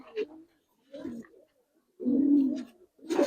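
Pigeons kept as pets in Bangladesh coo in a few low, throaty bursts with gaps between them, close to the listener. The last burst is the longest and loudest.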